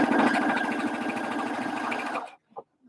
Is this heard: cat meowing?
no